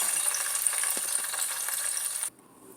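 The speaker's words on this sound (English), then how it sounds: "Let me finish frying them up." Pork chops frying in grease in a pan, a bright steady sizzle and crackle for about two seconds before cutting off abruptly, leaving quiet.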